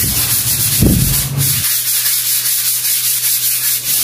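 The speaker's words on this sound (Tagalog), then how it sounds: "Sa pagliliha, kailangan siguraduhin natin naka-flat yung liha natin doon sa wall" Steady scratchy rubbing of sandpaper held flat against a wall, repeated back-and-forth strokes up close, with a low hum running underneath.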